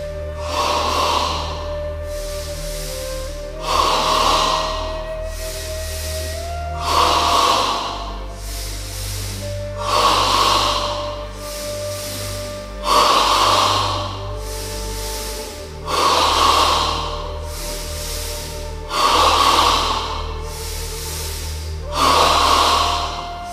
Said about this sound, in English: we breathe entirely in the chest, 10 times, away we go